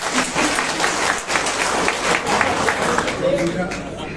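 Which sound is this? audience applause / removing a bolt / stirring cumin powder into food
audience applause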